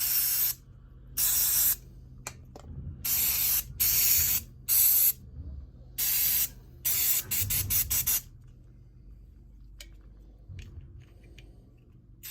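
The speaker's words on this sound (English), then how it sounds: "Get a blast off the brake cleaner first." An aerosol can of brake cleaner sprays onto stripped-down McCulloch chainsaw parts in a series of sharp hissing blasts, some long and some in quick short spurts, close to the mic with quiet pauses between.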